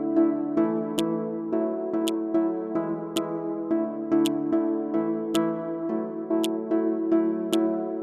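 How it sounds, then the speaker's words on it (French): Soft finger snaps land about once a second as crisp, light clicks in a laid-back summer pop beat. They sit on top of reverb-soaked plucked synth chords, with no voices. "On va juste mettre des petits snaps au calme."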